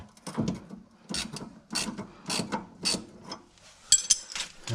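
A hand ratchet with a 15 mm deep-well socket tightens a bolt on a car's sway bar with poly mounts and bushings, giving several bursts of sharp clicking close by, each stroke a quick rattle of pawl clicks.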